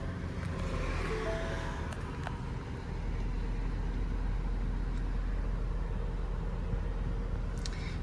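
A 2019 Ford Transit Connect XLT engine runs at a steady, even idle, a continuous low rumble that stays close and constant throughout with no other sounds on top.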